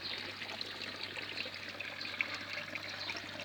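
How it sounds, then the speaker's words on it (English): A garden water feature on the island of Rhodes gives a faint, steady trickle of running water that continues without pause, quiet and close, with no voices. "This is my water feature."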